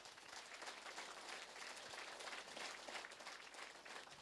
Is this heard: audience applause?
yes